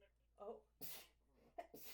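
Two quick, sharp sneezes burst out close to the mic, each with a short breathy intake before it, against a quiet room. A brief spoken exclamation comes before them.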